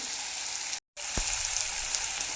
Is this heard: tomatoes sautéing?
yes